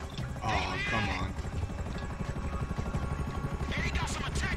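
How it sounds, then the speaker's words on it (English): Attack helicopters in Grand Theft Auto 5 drone with a thick, pulsing rotor rumble under gunfire and game noise, while voices speak over the din. "They got some attack choppers on you."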